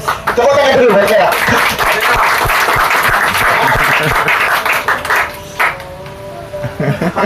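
A crowd claps steadily for several seconds, a dense burst of applause that tapers toward the end, with murmuring voices underneath.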